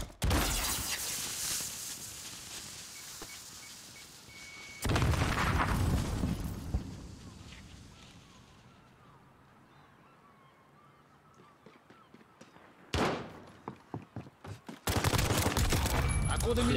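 Video game gunfire in loud sustained bursts, with a long automatic volley at the start, another heavy burst mid-clip, then a quieter lull before sharp shots and a final loud volley.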